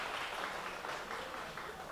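An audience applauds a guest at a law-career talk, a steady, fairly faint wash of many hands clapping that runs unbroken for the whole stretch.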